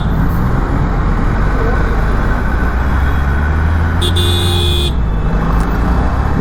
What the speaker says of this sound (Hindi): बहुत ट्रैफिक है भाई।